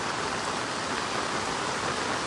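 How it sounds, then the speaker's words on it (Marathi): Heavy monsoon rain in Konkan, Maharashtra, pours down in a dense, unbroken hiss on surfaces nearby, steady and loud with no other sounds. "आणि पाऊस बघा किती येतो रे"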